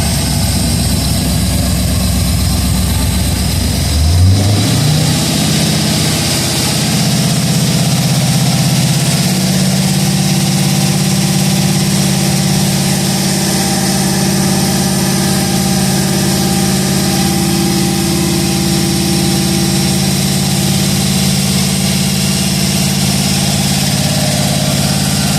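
A cammed 5.3L V8 car engine fires up on its first start, then settles into a loud, steady, rumbling idle that carries on close by for a long stretch.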